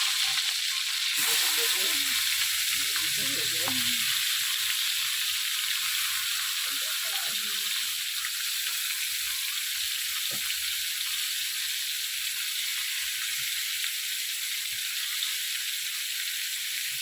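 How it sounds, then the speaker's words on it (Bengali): Oil heats in a wok for frying fish, giving a steady, bright sizzling hiss throughout, with brief bursts of voices and a few soft clinks early on. "মাছ ভাজার জন্য কড়াইতে তেল দিয়ে দিলাম।"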